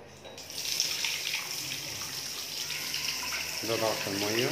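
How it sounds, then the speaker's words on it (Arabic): Tap water running steadily in an apartment bathroom in Alexandria, a close, continuous hiss and splash, with someone speaking briefly over it toward the end. "ده ضغط الميه"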